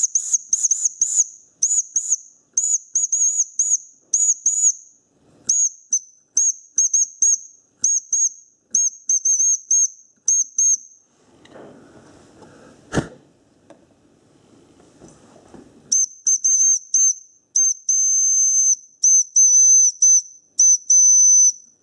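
The small steam whistle of a Mamod toy steam wagon shrills repeatedly in short high toots, pausing for a hissing, clattering stretch before sounding again in quick bursts.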